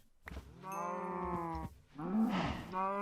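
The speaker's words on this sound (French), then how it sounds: "Et hop, on va tuer les vaches." Cows moo in the Minecraft video game, one long drawn-out low call followed by a rougher second moo, loud and close with a voice talking briefly over the game sounds.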